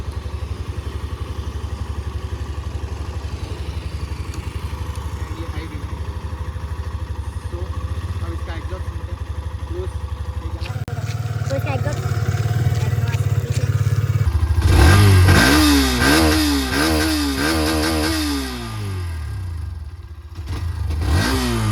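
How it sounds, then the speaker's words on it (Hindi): A Hero Xtreme 125R motorcycle idles with a low, steady thrum, then its engine and exhaust rise into a louder rev with swelling and falling pitch sweeps, heard up close. "काफ़ी बेसी साउंड है एंड एग्जॉस्ट अच्छा है"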